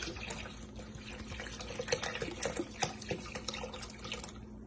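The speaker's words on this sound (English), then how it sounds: "I'm going to add now our half and half milk in it." Half and half milk is poured into a cooking pot for rice pudding, a soft close liquid splashing and trickling with small irregular drips, fairly faint, no voices.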